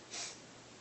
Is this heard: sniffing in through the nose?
yes